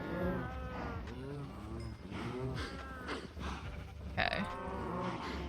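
Minecraft cows mooing in a One Block world, several drawn-out moos and grunts overlapping close by at moderate volume, with a brief spoken word partway through.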